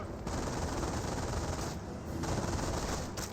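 An MG42 machine gun in the World War II strategy game Company of Heroes fires dense, continuous bursts, broken by two brief pauses, loud and close with no voices.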